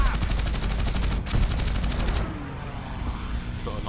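P-51 Mustang machine guns in a VR combat flight simulator, loud rapid bursts of fire that break briefly and resume, then cut off into steady engine and wind drone.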